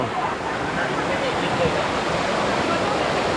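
Water at a hot springs waterfall in Krabi, Thailand rushes in a steady, close, broadband wash that stays even throughout, with no clear voices above it.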